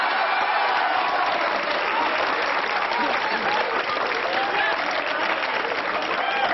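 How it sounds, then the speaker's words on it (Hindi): An audience at a Hindi kavi sammelan poetry recital breaks into steady, loud applause, a dense wash of clapping that holds evenly from start to finish with no pause. "भोले इतने हैं कि अपनी ही बात पे ताली बजा रहे हैं"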